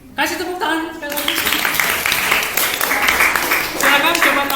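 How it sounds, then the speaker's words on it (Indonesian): A group of teachers in a training session claps again on request, a dense round of hand clapping that starts abruptly and carries on steadily, with voices speaking over it. "Kasih tepuk tangan sekali lagi."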